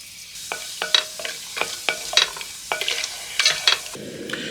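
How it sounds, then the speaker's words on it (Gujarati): Whole spices such as cinnamon, cloves and cumin seeds sizzle in oil over a medium gas flame, while repeated utensil taps and stirring clinks sound close by in a steady rhythm. "આપણા આખા મસાલા સરસ શેકાઈ રહ્યા છે ત્યારે 1 ચમચી જીરું"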